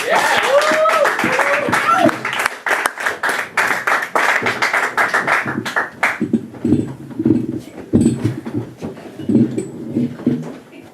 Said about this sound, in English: let's have another big round of applause for Suraj Menon, you guys.